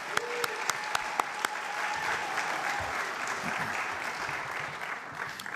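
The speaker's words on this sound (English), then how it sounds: "One more round of applause for our Multnomah County Chair Vega Peterson." An audience at a county State of the County event gives a round of applause for the county chair, with a few sharp individual claps at first before dense, steady clapping fills the hall and continues throughout.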